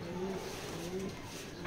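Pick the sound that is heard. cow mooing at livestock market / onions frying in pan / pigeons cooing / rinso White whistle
pigeons cooing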